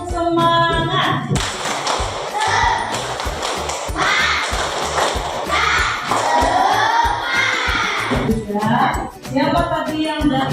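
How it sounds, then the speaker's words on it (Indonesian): A school class claps a rhythmic cheer together, patterned bursts of hand claps mixed with children's chanting voices, close and lively throughout. "coba tepuk semangat"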